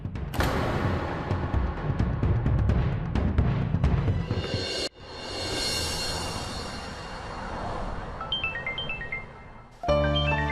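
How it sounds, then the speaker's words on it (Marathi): A mobile phone rings indoors: after a long stretch of rushing noise, a short melodic ringtone of bright repeating tones starts near the end and grows louder. "तुझा फोन बाहेर ठेवून गेलीस बघ, वाजतोय तो बघ जरा"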